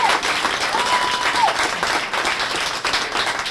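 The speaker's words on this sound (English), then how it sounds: "How about a big round of applause for Kathy?" Audience applause for Kathy Conley, who is leaving, at a governor's press conference in Taos; dense, steady clapping from a crowd throughout, with a brief whistle-like tone early on.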